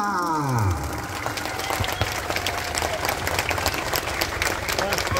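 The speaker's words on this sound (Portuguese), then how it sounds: "vamos aplaudir Nossa Senhora." A crowd outside the São José church in Vila São José, Arapiraca, breaks into applause during a religious procession for Our Lady. Brisk, close clapping carries on steadily at moderate level, and a voice is heard at the start.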